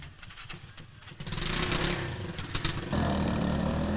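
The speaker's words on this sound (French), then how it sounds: "Sur sa moto tricycle, Gérard fait du porte-à-porte tous les matins pour collecter les ordures ménagères" A motorcycle tricycle used for door-to-door household garbage collection runs its engine, idling with a rough putter before revving up louder, with clattering knocks over the steady drone.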